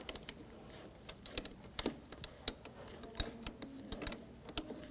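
A 10mm wrench loosens the nut on the negative battery terminal of a 2004-2009 Audi A4 Quattro. Faint, irregular metallic clicks and ratcheting ticks come close up in a quiet space.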